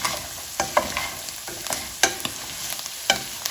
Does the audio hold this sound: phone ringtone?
no